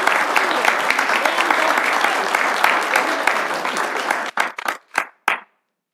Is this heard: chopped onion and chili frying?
no